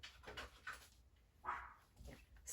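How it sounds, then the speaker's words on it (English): A dog outdoors beneath a window in the sun, panting and making soft whimpering vocal bursts, faint and distant in a quiet room. "If you can hear my little baby boy barking, he's just under my window outside enjoying the sun."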